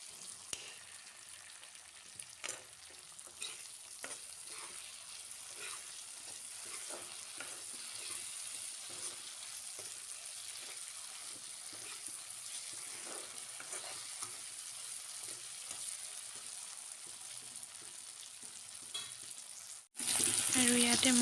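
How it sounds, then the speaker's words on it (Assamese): Half-fried potatoes frying in a pan, a steady, close crackling sizzle with scattered pops and stirring scrapes, ending in a sudden louder rush near the close. "মই সম্পূৰ্ণ ফুল ফ্ৰাই কৰা নাই, হাফ ফ্ৰাই কৰি লৈছিলোঁ আৰু অলপ সময় এনেকৈ ভাজিম"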